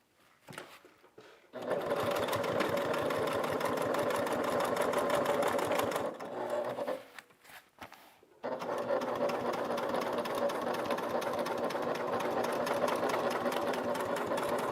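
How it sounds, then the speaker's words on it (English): A sewing machine runs steadily while topstitching a bag: two long continuous bursts of rapid stitching with a short irregular pause between them, close and loud with no talking. "I'm just going to kind of pull this down and do 2 lines of top stitching."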